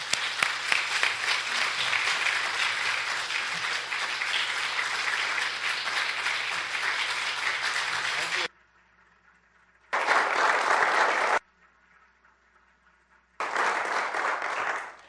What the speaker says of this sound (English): Don't stop yet. Keep clapping.